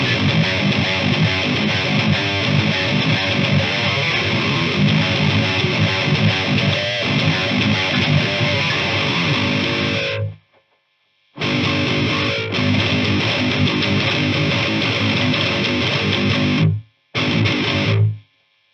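Electric guitar played through a Demonfx 66 boost pedal, a Fortin 33 clone, cranked all the way for heavy, saturated distortion: loud, dense sustained chords that stop abruptly twice before resuming, with no talking.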